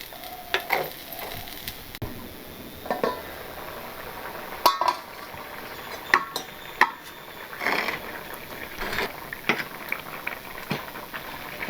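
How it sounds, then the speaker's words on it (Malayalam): Cucumber and ground coconut curry bubbles in a pot over a village kitchen fire, with a steady low simmer broken by scattered pops and occasional clinks of a utensil against the pot. "അരപ്പിൻ്റെ പച്ചമണം ഒന്ന് മാറി വരാൻ വേണ്ടി ഒന്ന് തിളയ്ക്കാം"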